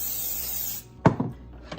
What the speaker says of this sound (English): Okay, I'm spraying them with oil